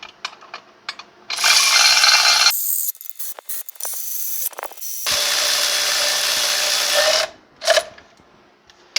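Ratchet wrench tightening bolts while a 2008 GMC Acadia engine and transmission are installed from the top, heard as bursts of rapid mechanical clicking separated by short pauses, close and fairly loud.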